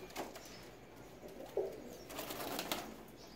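Pigeons offered for sale, kept at close range: a short, low cooing call stands out midway, with other soft coos and light rustling around it and someone talking nearby.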